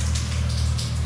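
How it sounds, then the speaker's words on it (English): Water flushed out through the bottom of a commercial boiler, a steady close rushing gush with no breaks. "bring a little water out so you can flush any crap out of the bottom."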